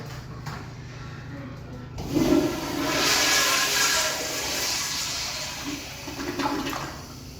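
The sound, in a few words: short toilet flush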